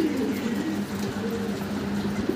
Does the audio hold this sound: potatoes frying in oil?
no